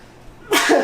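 A single sharp sneeze bursts out after a moment of quiet, close and loud, with a brief two-part blast.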